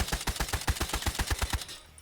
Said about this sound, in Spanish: mirad el patrón de disparo